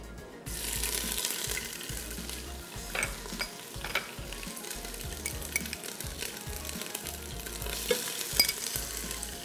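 Garlic, ginger and green chili paste frying in a pan for beef mince biryani, a steady close sizzle with stirring scrapes and light clinks, no talking.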